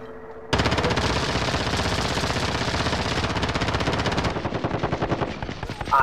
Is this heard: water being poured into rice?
no